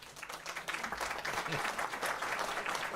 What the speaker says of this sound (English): You get a clap for that.